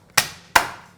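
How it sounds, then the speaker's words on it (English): Garlic cloves get two sharp crushing whacks on a board in a kitchen, close and punchy, each thud fading quickly into quiet. "Next, I'm going to crush my garlic. 3 cloves garlic."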